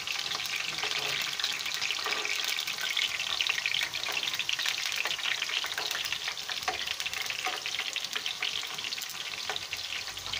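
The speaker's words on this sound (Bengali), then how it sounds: "ফ্রেঞ্চ ফ্রাই যদি একবার ভাজা করে উঠিয়ে তারপরে আরেকবার তেলে ভাজা হয় তাহলে সেই জিনিসটা কিন্তু অনেক ক্রিস্পি হয়" French fries crackle and sizzle steadily in hot oil during a second frying for crispness, a dense, continuous hiss with occasional stirring, close and even throughout with no voices.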